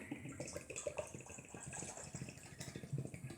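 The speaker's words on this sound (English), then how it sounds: "I'll get some water out of this Swiss Army water bottle, and we'll pour it into the good old kettle" Water pours from a Swiss Army water bottle into a kettle on an Outwell stormcooker, a faint continuous trickling gush lasting a few seconds.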